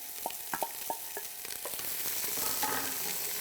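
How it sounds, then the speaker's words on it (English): About two cups of chopped, diced onions drop into hot oil, with a few sharp stirring clacks up front, then a steady, close sizzle that swells and holds. "We're going to start out with some hot oil here, and we're going to add about 2 cups or so of chopped diced onions."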